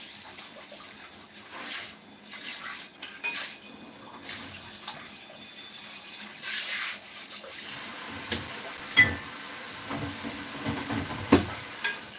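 Water runs from a kitchen tap into a container, a soft, uneven hiss and splash that fades in and out with small clunks, heard quietly with no talking.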